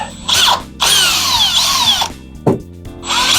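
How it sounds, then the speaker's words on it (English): A power drill pre-drilling a hole in wood while a pocket door is assembled, loud whining bursts that rise and fall in pitch, with short pauses and a brief knock between runs. "I'm going to pre-drill a new hole just so the next one doesn't split."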